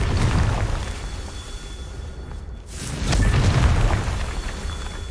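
A Confringo blasting spell explodes in Hogwarts Legacy: a deep, rumbling boom swells midway and rolls on loudly, with a steady low roar of fire and debris around it.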